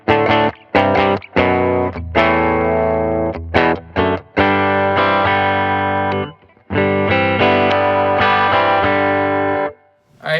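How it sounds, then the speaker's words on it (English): A PRS Archon electric guitar on its bridge pickup, run through two Helix amp models, plays loud distorted chords and riffs with chorus shimmer, stopping and restarting in short phrases with brief silent gaps, close and without talk. "Let's play on the bridge pickup now."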